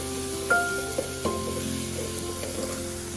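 Bay leaves sizzle in hot oil for Nagpur-style tarri poha, making a steady close frying crackle with a few small pops and stirring clicks and no talking.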